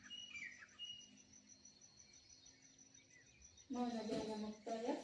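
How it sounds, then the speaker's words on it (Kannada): Soft chirps and thin high calls from birds and insects drift through a quiet natural setting, faint and scattered, before a voice begins speaking near the end. "ಪ್ರಕೃತಿಯಲ್ಲಿರುವ ಕಲರವ ಹಕ್ಕಿಗಳ ಚಿಲಿಪಿಲಿಯನ್ನ ಆನಂದಿಸಬೇಕು"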